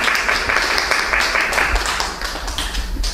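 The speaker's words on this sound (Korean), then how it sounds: "박수 부탁드립니다." Applause from an audience at a small chamber concert event, as a guest speaker is welcomed before the music begins; steady clapping fills the whole moment at moderate loudness.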